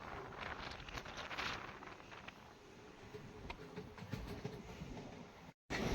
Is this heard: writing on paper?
no